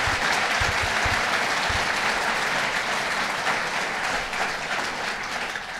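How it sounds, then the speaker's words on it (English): A crowd gives a round of applause at a governor's announcement at Hotel Saranac, with sustained, full clapping that carries on steadily, loud and unbroken, with no talk over it. "let's give them a round of applause"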